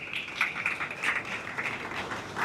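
Applause from an audience at the launch of a pear festival, a steady patter of clapping that stays moderately loud and even across the whole stretch, with no voices over it.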